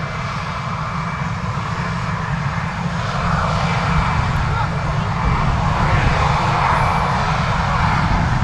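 An arriving airliner at Manchester Airport roars past as a loud, steady engine drone that swells slightly partway through and holds for several seconds, with a voice speaking over it.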